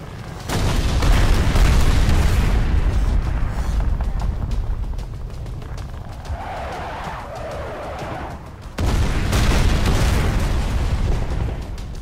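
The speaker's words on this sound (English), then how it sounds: "Artillery strikes." Artillery strike explosions in the hack-and-slash game Yaiba: Ninja Gaiden Z rumble as heavy, continuous booming blasts, easing briefly before a fresh loud impact slams in and the rumble swells again.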